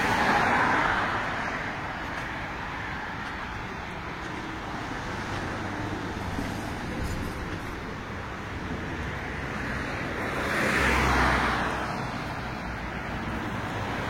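City street traffic in a capital rolls by as a steady, distant roar, swelling briefly as a closer car passes before settling back to the background wash.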